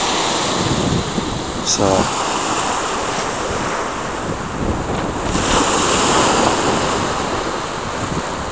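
Waves break and wash along Brighton and Hove beach in the UK on a morning shore, a steady, loud surf roar mixed with gusty wind buffeting the microphone, while a voice briefly begins to speak.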